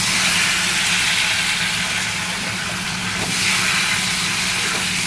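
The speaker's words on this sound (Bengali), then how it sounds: "এবারে সবজিগুলোকে একটু ভেজে নেব" Potatoes sizzling in a little oil in a pan, a steady loud broadband hiss that swells and eases slightly, with no voices.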